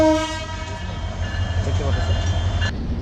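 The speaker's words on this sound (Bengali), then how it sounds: "ওইটি হচ্ছে কুড়িগ্রাম এক্সপ্রেস ট্রেন ঢাকা থেকে আসে" The Kurigram Express train from Dhaka runs through Parbatipur Junction station with a loud, close horn blast at the start, followed by a continuous rumbling roll of the passing carriages.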